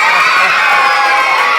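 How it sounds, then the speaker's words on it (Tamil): An audience at a Kamba Ramayanam stage event breaks into loud, dense applause and cheering, a continuous close roar of clapping and shouts. "நல்ல ஒரு கைத்தட்டல் கொடுங்க."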